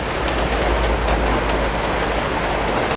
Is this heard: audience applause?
no